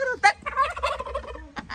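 A turkey gobbles in a short, loud rattling burst close by, followed by a few more gobbling notes.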